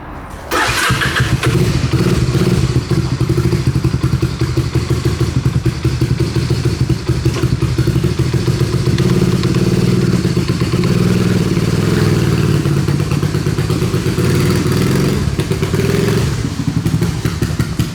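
A neglected 1986 Honda ATC250 Big Red three-wheeler engine fires up and runs steadily, a loud, close, rough low-pitched idle with mechanical clatter that continues throughout.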